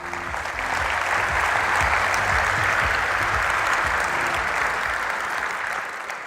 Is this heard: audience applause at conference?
yes